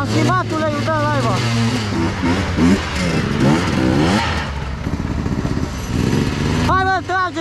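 Enduro motorcycle engine revving hard in deep mud at a hard enduro race, loud and close, its pitch rising and falling in repeated surges under shouting and talk from people nearby.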